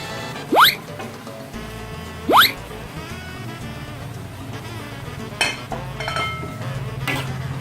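A spatula scrapes and clanks against a pan while fried noodles with cabbage and mustard greens are stirred, giving two sharp rising scrapes followed by softer clinks over a low sizzle.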